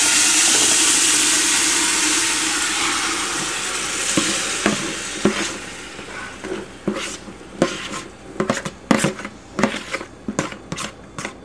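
Roasted vegetables for baingan bharta hit a hot pan with a loud sizzle that slowly fades, followed by sharp scraping and clanking of a utensil stirring against the pan.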